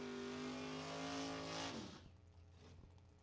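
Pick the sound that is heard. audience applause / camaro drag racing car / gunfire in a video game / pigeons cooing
camaro drag racing car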